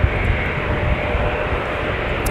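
An airliner in bright, colorful livery departs Minneapolis–St. Paul Airport during a snowstorm, its engines giving a steady, broad roar that holds at an even level from start to finish.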